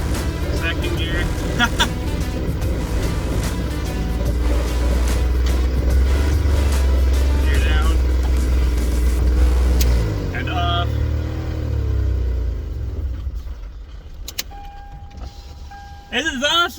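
A third-generation Toyota 4Runner under way in second gear, its engine a loud low rumble close by that eases off toward the end, with voices talking over it.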